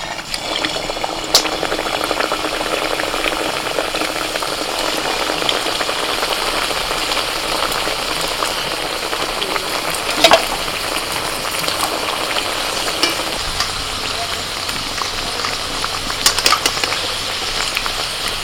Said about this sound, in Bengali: কড়াইতে সাদা তেল বসিয়ে দিয়েছিলাম, তেলটা গরম হয়ে গেছে, এবার একে একে ছেড়ে দেবো।